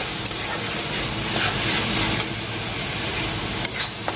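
Coriander and cumin seeds fry in oil in a pan for a chicken curry, a continuous close sizzle and hiss with a few faint stirring scrapes and no talk.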